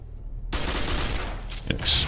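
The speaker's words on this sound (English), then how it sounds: "An exploding barrel" An exploding barrel in the Quake 4 video game on Xbox 360 blows up with a sudden loud broadband burst, then a sustained rumbling roar and crackling debris for over a second.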